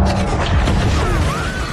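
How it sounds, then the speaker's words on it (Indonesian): A huge explosion from the 2018 film Extinction, a dense booming blast with crashing, rumbling debris and a rising whistling tone, loud and sustained throughout. "terjadinya ledakan dahsyat"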